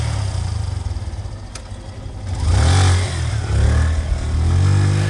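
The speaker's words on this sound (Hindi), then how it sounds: "हेडलाइट की चमक और इंजन की गड़गड़ाहट ने माहौल बदल दिया।" A motorcycle engine rumbles low on a deserted highway at night, then revs up louder partway through, with a throaty growl rising and falling near the listener.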